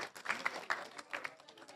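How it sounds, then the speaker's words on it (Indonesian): A brief burst of applause from an indoor audience, several people clapping together for a few seconds, fairly close with a faint voice over it. "Kasih tepuk tangan buat Mas Hari."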